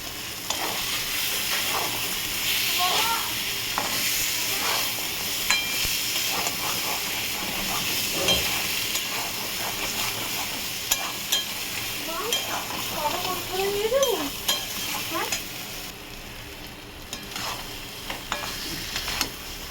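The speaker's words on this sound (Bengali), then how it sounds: "এইভাবে কষাচ্ছি চিংড়ি মাছটাকে" Salted shrimp are stir-fried in a pan, a continuous hissing sizzle broken by scraping stirs and a few clatters of the spatula, with some faint voice-like sounds mixed in.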